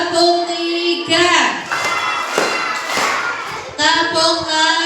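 Children at an elementary school gathering for Isra Mi'raj clap their hands in a counted rhythm, with chanting young voices and an adult voice mixed over the claps, loud and close.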